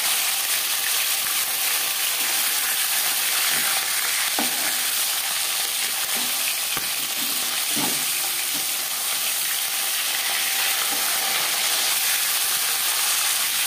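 Bhangar fish fries in a pan with a continuous, even hiss of hot oil, broken by a few soft clinks and shifts as the pieces are moved.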